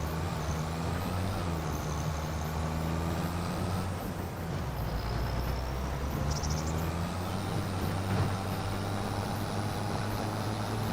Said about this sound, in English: Take over this tractor.